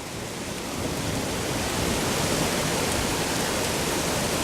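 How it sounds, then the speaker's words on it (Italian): Heavy spring rain pours down steadily in Quartu Sant'Elena during a thunderstorm, a dense, loud wash of falling water that builds slightly and holds constant with no voices. "non ho visto piogge così abbondanti"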